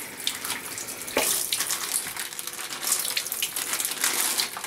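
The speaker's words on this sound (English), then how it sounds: "Give your potatoes a rinse over the sink." Water runs from a sink tap as potatoes are rinsed under it, a steady close splashing hiss with irregular bursts and patters as the stream hits the potatoes and the basin.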